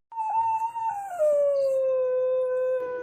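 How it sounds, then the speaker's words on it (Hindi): A dog howling outside at night, a single long, mournful howl that wavers at first and then slides gradually lower, clear and fairly close against a quiet background. "अचानक उसे बाहर से एक कुत्ते के रोने की आवाज़ सुनाई दी"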